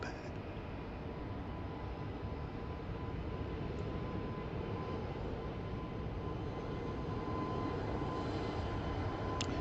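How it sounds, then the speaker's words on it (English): Aer Lingus airliner departing Heathrow for Shannon, a steady broad roar of jet engines at full takeoff thrust, loud and continuous throughout with no talk. "This is the Aer Lingus one going out to Shannon. Taking off a little bit late,"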